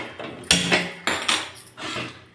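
A metal pot set down on a kitchen surface before making sugar syrup for Bandar laddu, giving a few close, sharp clanks and knocks spaced over a couple of seconds, with no talk.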